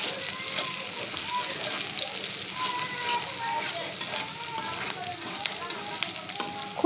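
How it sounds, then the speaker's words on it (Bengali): Slit green chillies fry with browned onions in a pan, producing a continuous sizzle and crackle with occasional stirring noises and faint background voices. "কাঁচামরিচগুলো একটু ভেজে নেব।"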